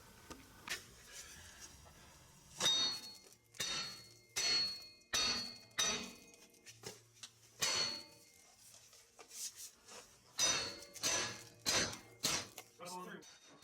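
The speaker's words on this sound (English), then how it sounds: "This one I'm just going to try hitting it with a hammer a couple times and see if it breaks free." Hammer blows striking a stuck wheel bearing knuckle on a Nissan Xterra 4x4, sharp metallic clangs landing in uneven bursts of one to three hits, close and loud, with quiet pauses between.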